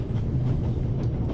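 Train rolling along rails in the video game The Raven, a steady low rumble with a faint rhythmic clatter heard from inside the carriage, continuous and fairly close, with no voices.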